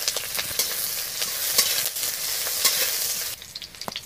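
Chopped onion fries in mustard oil in a wok, giving a bright continuous sizzle with intermittent clicks and scrapes of stirring, close-up, easing slightly toward the end, with no voices.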